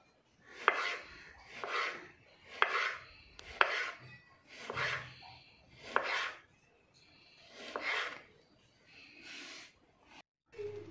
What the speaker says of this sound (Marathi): मी पातळ असा उभा कापून घेतलाय.